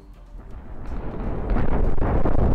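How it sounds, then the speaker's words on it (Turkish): A deep, roaring rumble of ongoing explosions follows an atomic bomb in a video game. It swells steadily louder over a couple of seconds with no talking. "Evet, hala patlamalar devam ediyor."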